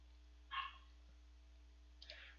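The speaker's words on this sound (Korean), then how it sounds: "지금 우리 집 강아지가 지금 와우 짖고 있어" A house dog barks twice, faint and some distance away: a short bark and then another about a second and a half later, over a steady low hum.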